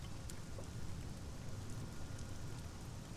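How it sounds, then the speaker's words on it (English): A light drizzle of rain falls over a village in the video game Sunless Skies, a soft, steady hiss heard alone at low volume. "A light drizzle of silver rain brushes the village."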